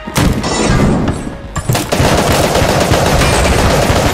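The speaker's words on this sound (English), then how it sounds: "I actually never tried this carbine" A carbine firing in the video game Enter the Gungeon, loud dense rapid shots with booming impacts, nearly continuous through the whole stretch apart from one short dip.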